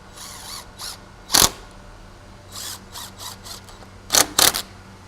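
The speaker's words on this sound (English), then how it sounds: "align the top of the sill to the top of the skirt board and fasten it down with some bugle head screws" A power drill drives bugle head screws into a window sill, giving short separate whirring bursts with a few sharper spikes and quiet gaps between them.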